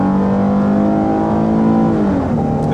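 A midsize American family SUV accelerates hard, its engine holding a loud, steady droning roar up close, with the pitch briefly dropping and shifting near the end as if changing gear.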